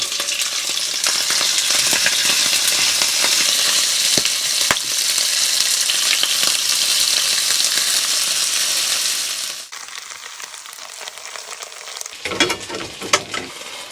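Beef chow fun frying in hot oil in a pan while camping in a van. It gives a loud, continuous close sizzle that drops to a quieter crackle partway through, with scraping stir sounds near the end.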